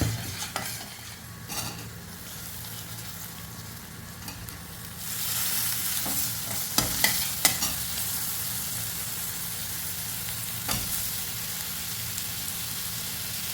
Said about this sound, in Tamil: இது வெங்காயம் பூண்டு இதெல்லாம் நல்லா வதங்கின பிறகு இதுக்கு வந்து நான் சாம்பார் தூள் ஆட் பண்ணிக்கிறேங்க